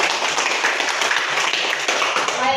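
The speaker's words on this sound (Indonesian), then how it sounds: "Oke, tepuk tangan untuk Vika." A class of schoolchildren clapping together for a student in a dense burst of applause, close and steady, with faint voices mixed in.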